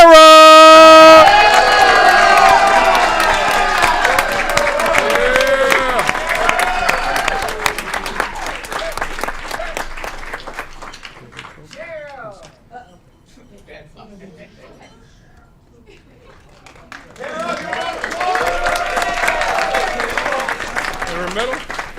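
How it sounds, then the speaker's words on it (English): A city council meeting audience bursts into loud applause and cheering for a championship team manager, a dense clapping roar that fades out midway, then swells again near the end, with a voice over the crowd at the start. "Big round of applause for the manager of the championship team, Kara."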